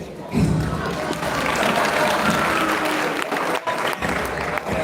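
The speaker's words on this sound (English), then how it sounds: "please let's give them a round of applause" Audience applause at a gathering of the Erudites, sustained clapping from a crowd with a few thuds and some voices mixed in.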